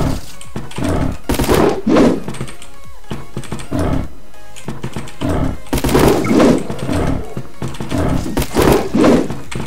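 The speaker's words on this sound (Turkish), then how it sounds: "Oğlum adam deli gibi silahla tarıyor ya" Rapid bursts of machine gun fire in a wild survival video game battle against lava wolves, loud and dense, coming in repeated volleys with brief pauses, backed by game sound and music.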